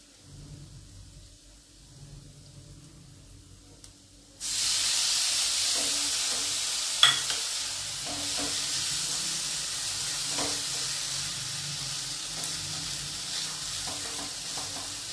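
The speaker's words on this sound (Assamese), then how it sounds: "পিঁয়াজটো গোল্ডেন ব্ৰাউন হৈ গ'লগৈ, এতিয়া আমি মেগীটো এড কৰি দিম।" Maggi noodles go into golden-brown onions in a frying pan, and a quiet stretch gives way to a sudden loud, steady sizzle and hiss with occasional stirring clinks, and no talk.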